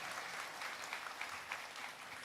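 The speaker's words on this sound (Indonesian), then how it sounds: "Tepuk tangan Bapak Ibu sekalian." Quiet, steady clapping from an audience at a Hindu community graduation and gathering in East Java, sounding distant and even in level for a couple of seconds.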